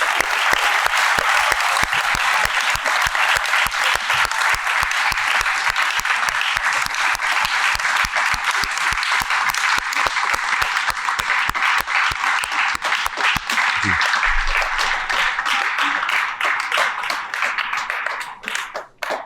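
Sustained audience applause in a podcast studio, loud rhythmic clapping from many hands, steady and close, continuing for nearly twenty seconds before tapering off at the end.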